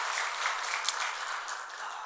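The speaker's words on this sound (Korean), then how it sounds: "우리 격려 박수 한번 드리도록" Church congregation applauding at a Korean worship service, a steady wash of many hands clapping together, moderately loud and sustained throughout with no voices over it.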